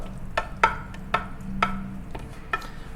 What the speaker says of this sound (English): When you mix rice, more like a cut motion, not like a pushing down.